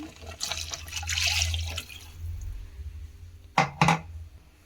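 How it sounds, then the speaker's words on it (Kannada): Water splashes and runs into a mixer grinder jar as it is rinsed, a close gurgling pour and sloshing that fades out, then two sharp knocks as the jar is handled. "ಈಗ ಮಿಕ್ಸಿ ತೊಳೆದು ನೀರು ಹಾಕೊಳ್ಳೋಣ."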